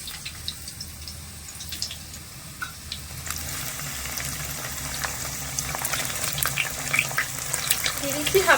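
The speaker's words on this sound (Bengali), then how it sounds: "এখানে আমি আলু আর সয়াবিনটা লালচে করে একটু ভেজে নেব" Diced potatoes and soya chunks fry in hot oil with bay leaf and whole cumin for a vegetarian biryani, a steady sizzle that grows louder and busier toward the end, with a few clinks of stirring.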